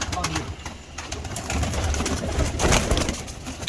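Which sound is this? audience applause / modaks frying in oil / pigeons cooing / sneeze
pigeons cooing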